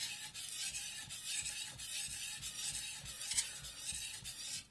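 A blade is sharpened on a Suehiro Rika #5000 soaking whetstone, giving soft, steady wet scraping strokes in a faint, even rhythm, close up with no voices.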